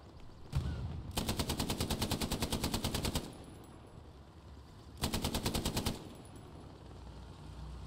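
Machine gun fire in the World War II shooter Hell Let Loose: two sustained rapid bursts, a long one of about two seconds and a shorter one after a pause, loud and close over a quiet ambient background.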